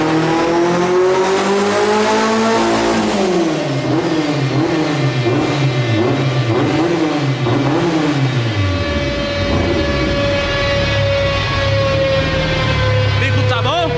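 A 700 hp VW Saveiro with a turbocharged AP engine accelerating hard in one long pull, engine pitch climbing loudly through several gear changes with a brief tire squeal, very close and dominant, ending in a steady high drone.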